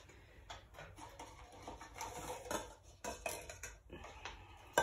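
Plastic paint cups clatter and knock together in short, bright bursts while acrylic pour paints are gathered, a steady run of light taps and scrapes close by with no talking.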